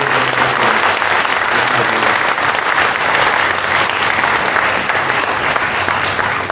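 Sustained, loud applause from a church congregation thanking a retired pastor during an ordination and installation service, steady clapping throughout with faint crowd murmur.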